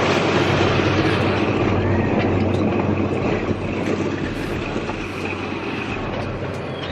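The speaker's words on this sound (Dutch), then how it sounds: "Dus toen was het trein er eindelijk." A train pulls into a station in Sri Lanka with a dense, continuous rumble and rattle that stays loud and close for the full seven seconds, easing only slightly toward the end.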